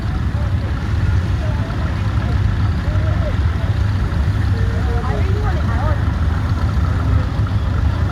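A Chamberlain crawler tractor being driven at a steam fair, its engine chugging steadily and loud up close throughout, with people talking over it.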